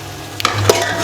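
Boiled beef goes into a pot for beef pulao, followed by a brief scrape of stirring and a soft sizzle of frying close by.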